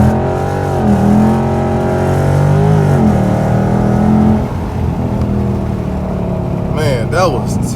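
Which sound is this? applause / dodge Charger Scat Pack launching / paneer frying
dodge Charger Scat Pack launching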